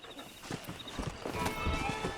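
Hooves clip-clop in an uneven trotting rhythm against a steady background hum in Red Dead Redemption, fairly close, with a faint horse snort mixed in.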